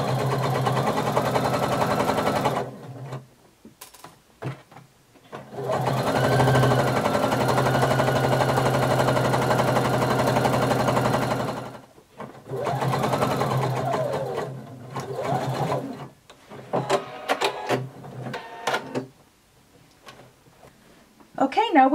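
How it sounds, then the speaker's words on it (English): A sewing machine runs along a pullover's side seam in long steady bursts, whirring evenly with short pauses between runs and a few clicks, while a person talks during the breaks. "we're going to sew all the way up using 5/8 of an inch seam allowance"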